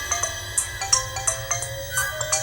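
A phone ringtone for an incoming call in a Telugu movie scene, an electronic melody of short bright tones repeating in quick rhythm, loud and close, with no talking over it.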